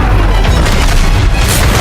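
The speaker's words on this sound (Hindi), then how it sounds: "जिसके बाद ग्रोफिल अगले मोड़ पर जाता है और दूर से स्पीड सिस्टम पर गोली चलाता है।" A heavy, booming gunshot in a heist film, a blast with deep low rumble, loud and close, sustained over nearly two seconds with no talking.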